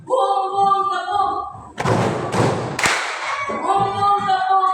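An Indonesian classroom of students does a 'boom, clap' call-and-response: a cluster of loud, sharp thumps and claps bursts out mid-clip between stretches of a teacher's sing-song voice.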